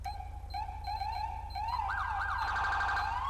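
A modded police car siren in a video game gives a few short beeping yelps, then switches to a rising and falling wail that grows louder and continuous over a steady engine hum.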